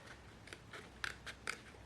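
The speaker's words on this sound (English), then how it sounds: "you're just trying to cut out lovely little bluebell shapes" Good scissors cut hand-painted paper into small bluebell shapes: faint, close crisp snips recur in an uneven rhythm, with no one speaking.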